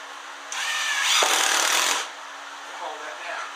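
A power drill drives a screw into wood for a flag project, a steady rising whir lasting about a second and a half, close and fairly loud, then stopping.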